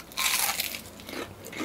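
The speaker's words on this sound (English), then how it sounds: "You can hear the crunch." Crunchy onion rings from a Red Robin tower being bitten into up close, a dense burst of crisp crackling crunches that lasts about a second and then tapers off.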